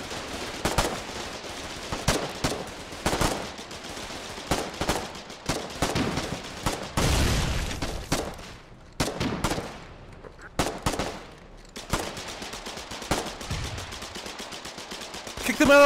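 Gunfire in the video game Foxhole, repeated sharp shots and rattling bursts in irregular clusters, some close and loud, others more distant, with a heavier blast near the middle and brief quiet gaps between volleys.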